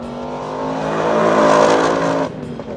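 A Ford Mustang V8 revs hard on a racing circuit, its loud harmonic engine note climbing steadily toward high rpm before the throttle lifts abruptly and the sound drops away.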